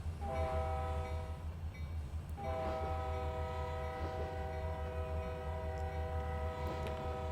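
A freight train in a railroad simulator game, running as a way freight on the KCS Greenville Sub, rumbles steadily while its horn sounds loud, sustained blasts, one long and then another after a brief gap.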